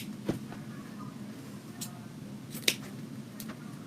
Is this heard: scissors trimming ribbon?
yes